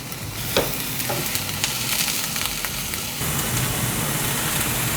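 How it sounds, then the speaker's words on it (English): Mushrooms and leafy greens sauté in a little olive oil over low heat, giving a steady, close crackling sizzle with a soft stir or clatter near the start and no talk. "Saute it in this little bit of olive oil."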